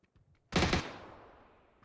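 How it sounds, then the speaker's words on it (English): Sudden burst of rapid gunfire in the PUBG battle royale video game, a loud close volley that hits abruptly and then rings out into a decaying tail. "Oh, that's gunfire at me too."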